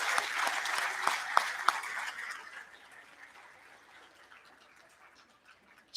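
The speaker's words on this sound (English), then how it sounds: "Can we all clap for our principal, Pramini?" A crowd claps enthusiastically, the applause strong at first and then gradually thinning out and fading to a few scattered claps.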